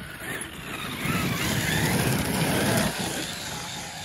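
A Traxxas X-MAXX RC car drives along a forest path with a rising whine and rough crunching rush that swells loud in the middle and fades at the end, with no talk.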